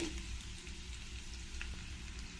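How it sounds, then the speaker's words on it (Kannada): Garlic and onions fry in oil for a cabbage ball manchurian, a soft, steady sizzle and crackle with faint stirring, close and even. "ಇದನ್ನೆಲ್ಲ ಸ್ವಲ್ಪ ಚೆನ್ನಾಗಿ ಫ್ರೈ ಮಾಡ್ಕೊಳ್ತೀನಿ ಎಣ್ಣೆಯಲ್ಲಿ"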